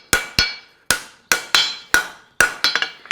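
A hot steel horseshoe being hemmed on an anvil at the forge, sharp ringing hammer blows struck singly and in quick pairs, about eleven strikes with short decaying rings, close and loud with no talk.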